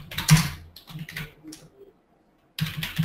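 Computer keyboard typing in a trading software program, a run of soft clustered keystrokes, a pause of near silence, then another burst of taps, close and fairly clear with no voices.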